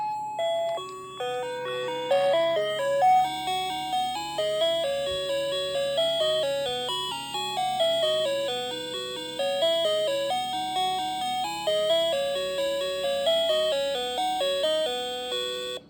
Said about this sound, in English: And if you're wondering why it sounds distorted, I figured it out.